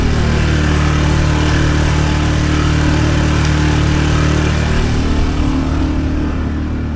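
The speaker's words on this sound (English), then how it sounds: "we've got the engine at about half throttle" A sailboat's auxiliary engine runs at about half throttle while motor sailing on Chesapeake Bay. It makes a loud, steady, unbroken drone close by, with no talking.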